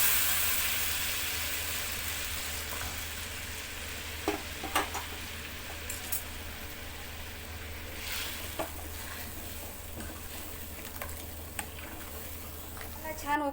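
Masala for Vidarbha-style chungole bhaji sizzles and simmers after hot water is poured into the hot spiced pan, a steady near hiss and bubble running throughout with a few soft stirring clicks.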